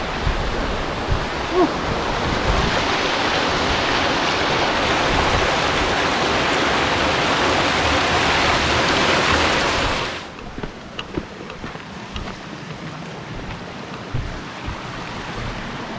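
Rushing water from a river crossing on the Guci trail up Mount Slamet roars loudly and steadily for about ten seconds, then drops off abruptly to a quieter background of faint rustling and distant flow.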